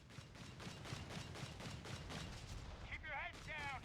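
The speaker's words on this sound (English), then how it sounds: "Shooting that machine gun." Machine gun fire in the real-time strategy game Company of Heroes 3 during a 2v2 match, with rapid bursts of shots and distant booms running under a commentator's voice and short whistling effects near the end.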